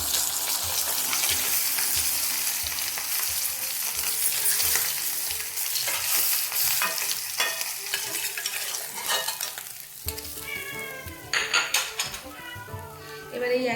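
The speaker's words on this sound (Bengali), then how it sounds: "তো মাছটাকে ভেজে নিই" Fish frying in hot oil, a loud continuous sizzle with clinks of utensils against the pan, then sharper, bursting spits toward the end.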